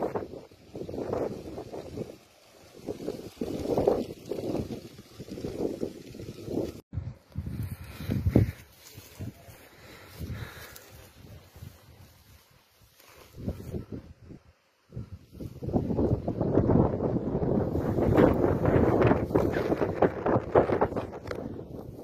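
Strong wind gusting across open ground during a stubble fire in Sivas, roaring and buffeting the microphone in uneven bursts early on, then settling into a loud, sustained rush over the final seconds with no speech.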